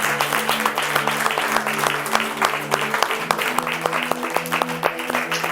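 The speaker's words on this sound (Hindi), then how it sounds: "जोरदार ताली यीशु मसीह के लिए" Congregation at a church sermon applauding, a steady dense clatter of many hands clapping throughout, fairly close and even, with a sustained musical tone underneath.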